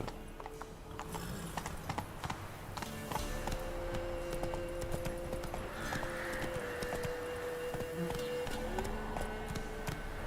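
Roach, a horse in The Witcher 3, gallops with a steady, rhythmic clip-clop of hooves over faint game ambience and a sustained tonal drone.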